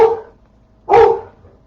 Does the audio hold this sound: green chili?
no